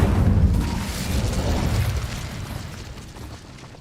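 An Incendio fire spell in Hogwarts Legacy erupts with a loud, rumbling whoosh and boom that swells and then slowly fades away.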